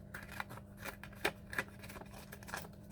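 Paper torn off a frame while making a collage: a quiet, close series of short crisp rips and rustles, with a few sharper snaps in between.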